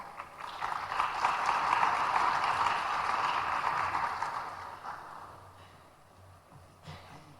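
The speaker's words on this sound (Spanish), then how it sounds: "Vamos a recibirlo con un aplauso." An audience at a municipal waste-management forum in Tiquipaya, Cochabamba, Bolivia claps to welcome a speaker, a moderate wash of applause that swells, holds for a few seconds and then fades into a quiet room.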